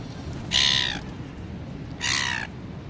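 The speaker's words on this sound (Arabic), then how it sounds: "طيور يأتون يأكلون من ايدي" Crows cawing on an Australian street where they come to eat from people's hands, two loud harsh caws spaced about a second and a half apart over a steady low background hum.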